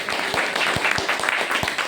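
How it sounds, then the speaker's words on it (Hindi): Loud applause from an audience at a group business meeting in a restaurant, a dense steady patter of many hands clapping for the head of the group, filling the whole stretch without talk. "तो मैं चाहूंगा एक बार जोरदार तालियां हम सबके ग्रुप के मुखिया मिस्टर लवकुश"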